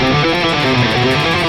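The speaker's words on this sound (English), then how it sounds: "Now, picking each note, it would sound kind of like this." A quick guitar run with every note picked, a brisk, evenly articulated string of distinct plucked attacks, loud and close, alone without speech.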